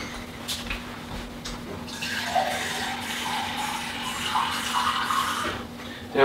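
Water being drunk, heard as a close, steady liquid rush lasting several seconds after a quiet start, moderately loud and then ending abruptly.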